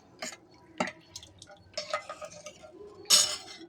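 A spoon stirring pepper tomato rasam ingredients in a metal pot, close and intermittent, with several sharp scraping clinks against the vessel spaced irregularly, ending in a louder clank.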